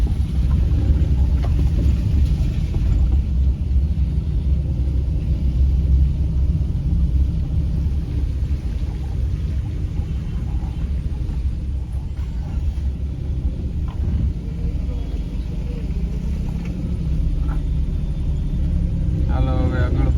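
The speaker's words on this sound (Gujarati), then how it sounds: "ટ્રાફિક ખૂબ જ છે." Steady road traffic rumble around a moving car on the way from Somnath, with a continuous low engine and tyre drone and passing vehicles, loud and constant throughout.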